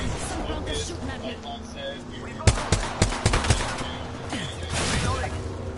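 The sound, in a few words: gunfire in video game Apex Legends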